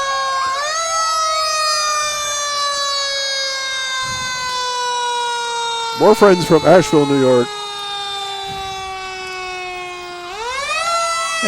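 Fire truck siren from the Asheville, New York Fire Department passing in a Fourth of July parade, a loud sustained wail that rises, holds and climbs again, with a burst of horn blasts midway and people talking over it.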